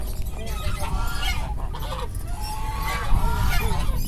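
Turkeys gobble and cluck in a noisy, continuous close chorus of warbling fowl calls, mixed with background chatter.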